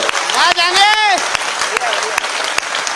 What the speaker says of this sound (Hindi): आपकी तालियां कमजोर है मेरे दोस्त।